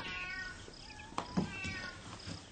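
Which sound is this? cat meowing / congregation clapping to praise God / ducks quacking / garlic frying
cat meowing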